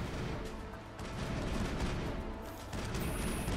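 Heavy gunfire from a firefight in the video game Mass Effect, with dense rapid bursts and booming shots that run loud and continuous throughout.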